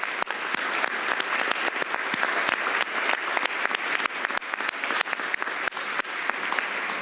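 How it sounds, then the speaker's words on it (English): An audience at a New Settlement after-school program event claps in sustained, dense applause that stays steady and fairly loud for the whole stretch, with no voices breaking through. "Give yourselves a round of applause."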